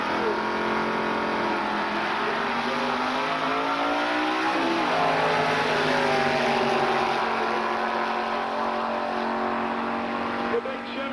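A 1952 Chevy and a Ford Pinto launching in a drag race, engines roaring and rising in pitch as they accelerate away, loud and sustained, with an announcer calling the race over it.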